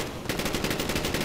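Sustained automatic machine gun fire in Call of Duty Black Ops, a loud, dense rattle of rapid shots that starts abruptly and keeps going without a break.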